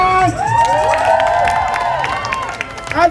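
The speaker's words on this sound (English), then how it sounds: "Big applause for every one of you." A crowd at a Kill the Bill protest street party in Parliament Square applauds and cheers, with a steady wash of clapping and shouts that swells near the end, loud and close.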